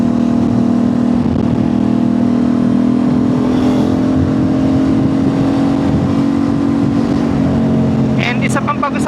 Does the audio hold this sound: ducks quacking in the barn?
no